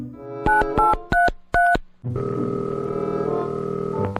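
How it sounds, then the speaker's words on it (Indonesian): Six quick keypad tones beep in an uneven sequence, then a steady buzzing dial tone takes over and holds to the end. "Buat telepon Mang Toing dulu dah."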